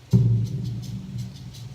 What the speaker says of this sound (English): I went and found a concert bass drum sample